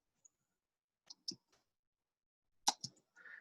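Sharp, quiet computer mouse clicks come in isolated pairs and singles against near silence, crisp and close.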